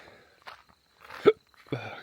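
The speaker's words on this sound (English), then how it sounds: "Hiccups." A person gives one sharp hiccup in a quiet indoor space, with soft footsteps or rustling before it and another brief movement sound after.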